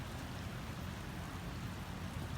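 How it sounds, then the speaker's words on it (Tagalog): Heavy rain falling during a long day of downpour, a dense, even wash of hiss close by that holds steady throughout, fairly faint, with no voices. "it keeps raining the whole day since yesterday"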